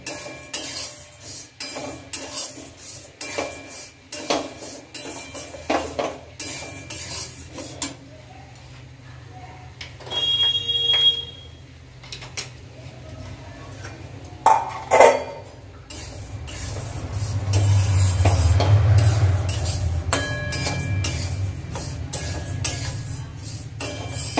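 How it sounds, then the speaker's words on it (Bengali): Broken wheat frying in a pan is stirred with a utensil, giving scattered clinks and scrapes against the metal, then a steady low sizzle building toward the end. "ডালিয়াটা একটু নেড়ে নেব, একটুখানি একটু লাল করে নেড়ে নিতে হবে।"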